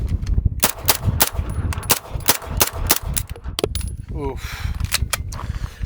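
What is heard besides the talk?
9mm submachine gun shots through a small suppressor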